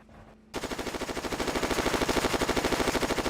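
Rapid automatic gunfire from a Bofors anti-aircraft gun in the WWII Online video game, a loud steady stream of evenly spaced shots starting abruptly after a brief quiet moment and continuing without pause.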